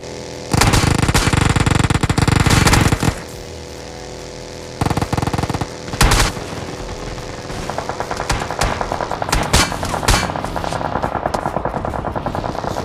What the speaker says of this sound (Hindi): कुल मिलाकर के ये लोग मेरे को एकदम गदागद फायरिंग देते हैं